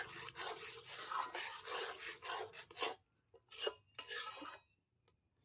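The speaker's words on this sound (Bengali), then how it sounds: "আর যে অল্প জলটা ছিল সেটাও দিয়ে আমি এটা মিশিয়ে নিচ্ছি" Semolina and milk powder dough being mixed by hand with a little water, giving soft rasping, rubbing scrapes in bursts, steady at first, then broken by pauses and short swishes near the end.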